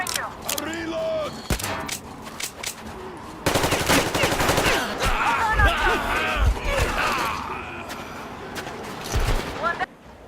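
Rapid automatic gunfire rattles in the Metro Exodus video game, dense bursts and single shots layered with shouting voices and battle noise throughout.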